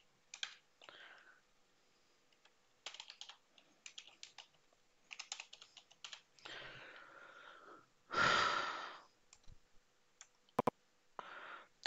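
Quiet bursts of keystrokes typed on a computer keyboard in a video editor, spaced clusters of light clicks with a soft breathy sound in between and a single sharp click, close and alone.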